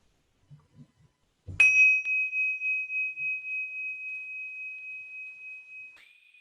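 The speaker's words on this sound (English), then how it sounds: "And when you hear the bell, we can finish." A single meditation bell strike after a few soft taps, ringing out in a long, clear, sustained tone that slowly fades over several seconds.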